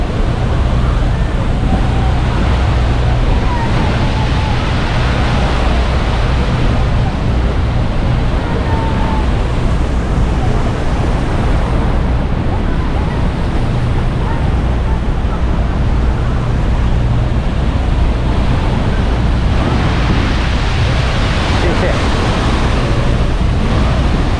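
Rushing Niagara rapids and strong wind on a Hornblower cruise boat near the falls make a loud, steady, unbroken roar of churning water and buffeting wind noise throughout.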